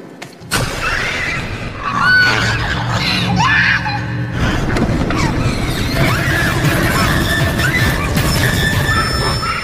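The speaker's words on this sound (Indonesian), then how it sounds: "mendengar teriakan itu, Mel pun menghampirinya." Loud, shrill screams in a horror film scene rise and fall over a chaotic, crashing background, with intense layered noise throughout.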